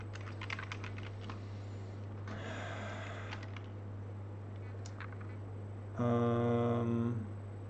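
Clicking on a computer keyboard in short bursts of rapid keystrokes separated by pauses, close and fairly quiet over a steady low electrical hum, with a brief louder tonal buzz near the end.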